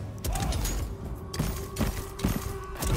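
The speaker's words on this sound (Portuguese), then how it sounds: "Olha os caras atirando em mim." Enemy gunfire in the Total War: Pharaoh video game comes as a close, cluttered volley of repeated sharp shots and thuds, with mechanical clanks and a steady tone sounding underneath.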